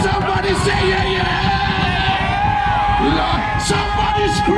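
Carnival crowd at the Atlanta Caribbean Carnival yelling and whooping together over loud, steady festival music, a dense wall of voices close by with a few brief louder shouts near the end.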